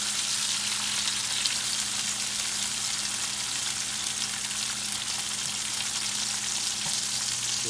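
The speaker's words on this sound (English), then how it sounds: "We're going to baste." Steak basting in hot oil in a pan, giving a steady, even sizzle and crackle that stays loud and constant throughout with no talking.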